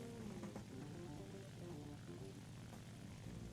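Engine drone of a Ki-44-I fighter plane in War Thunder arcade mode holds steady through a horizontal turn, a continuous faint propeller hum with a slowly wavering pitch.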